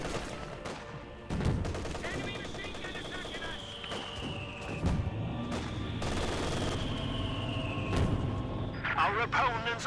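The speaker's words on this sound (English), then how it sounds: "And here comes the mortar." Battle sounds in Company of Heroes 2 with a mortar in play, spaced heavy booms amid rattling machine-gun fire and a whistling shell, with voices talking throughout.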